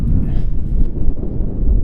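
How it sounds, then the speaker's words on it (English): Gusty outdoor wind buffeting the microphone, a continuous low roaring rumble that rises and falls in strength with no other distinct sounds. "It's got windy."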